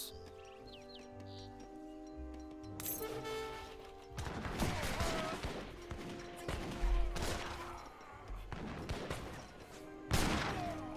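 Ashigaru musketeers fire volleys in an Age of Empires 3 tournament battle, with several sharp cracking bursts of gunfire, some overlapping in ragged clusters, over game music and ambient battle noise.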